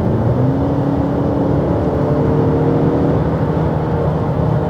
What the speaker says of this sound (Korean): 물론 이때부터는 엔진음이 당연히 크게 들리겠지만 풀 가속을 했거든요